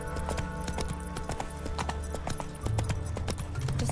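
Roach the horse gallops in The Witcher 3, a steady rhythm of clip-clop hoofbeats running close and loud over a constant low game soundscape.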